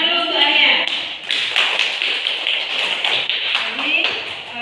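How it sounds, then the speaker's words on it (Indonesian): A classroom of students claps hands for a classmate, a loose burst of sharp individual claps and taps, close and uneven, with voices chattering over it. "tepuk tangan dulu untuk Arya"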